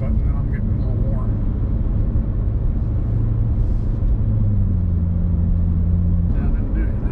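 A Corvette sports car cruising through city traffic, its low engine rumble steady and close throughout, with a deeper drone settling in toward the end.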